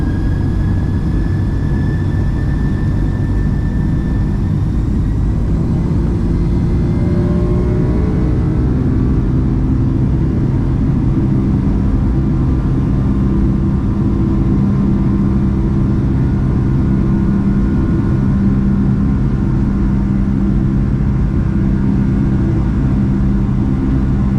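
The jet engines of a Boeing 757 departing Seattle roar steadily through the takeoff roll, a loud, deep, continuous rumble with a faint rising whine, heard from close inside the aircraft.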